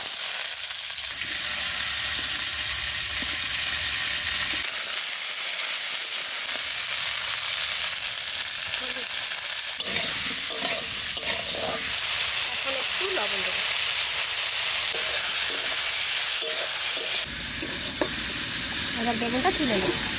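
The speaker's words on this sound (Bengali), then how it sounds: "বেগুনটা একটু ভেজে নেব" Eggplant frying in a pan sends up a steady, loud sizzle and hiss, with occasional stirring scrapes and some faint talk in the background.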